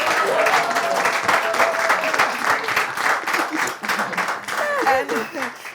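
An audience applauds steadily at a gathering, a dense patter of many hands clapping while voices call out and cheer over it.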